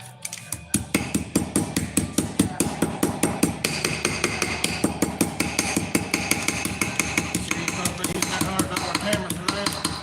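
A small ball peen hammer with a carbide tip strikes steel over and over in a fast, steady rhythm, each blow sharp and ringing, loud and close in a workshop.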